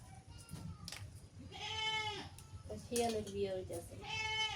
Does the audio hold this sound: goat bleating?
yes